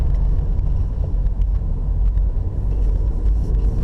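A Cadillac CT4 engine pulls in third gear through tight corners on a mountain road, giving a steady low rumble with wind and road noise continuously throughout, no talking.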